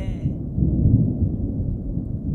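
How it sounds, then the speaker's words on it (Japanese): A thunder clap in a radio drama: a deep, close rumble that swells and rolls for a couple of seconds, following a brief fading tone at the start. "ただの雷です。"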